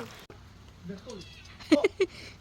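A cat gives a few short meows close by in a quiet countryside setting, a couple of clear calls near the end, with faint background noise and no talk.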